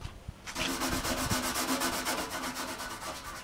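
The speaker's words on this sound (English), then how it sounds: "Let me just keep scrubbing." Steady back-and-forth scrubbing on the dirty casing of an old 1991 Packard Bell Legend 386X computer, a close, rhythmic rubbing that starts after a brief pause and keeps going without talk.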